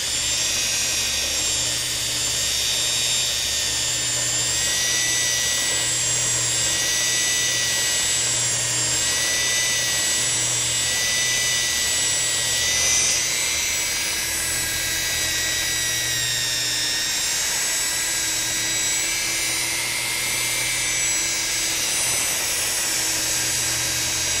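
A car paint polisher with a foam pad buffs an OEM finish in a continuous, steady high whine with a low motor hum beneath, loud and close throughout without pause.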